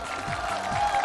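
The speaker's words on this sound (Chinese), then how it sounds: "来，接下来让我们用热情的掌声欢迎海洋" A studio audience at a televised CCTV Spring Festival Gala stage show breaks into loud, dense applause as a performer is welcomed, with a sustained tone running underneath.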